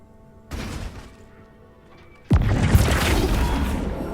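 The Flipendo spell is cast in Hogwarts Legacy: a soft thud and whoosh are followed about two seconds later by a loud, close burst with a crashing impact that rumbles on and fades.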